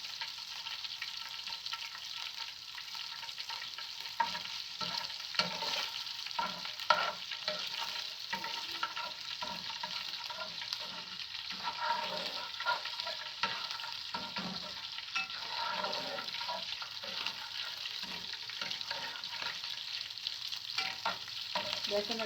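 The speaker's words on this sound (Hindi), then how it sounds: "थोड़ा सा ज़रा सौते करेंगे, हल्का सा गोल्डन सा हो जाएगा, ब्राउन सा हो जाएगा" Chicken sautéing in a pan with garlic and ginger, giving a constant soft sizzle with repeated scraping and stirring strokes of a utensil, close and fairly quiet, with no speech.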